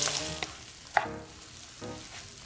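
Grated purple yam frying in melted butter in a hot pan, a soft sizzle with a few brief stirring clacks, close and fairly quiet.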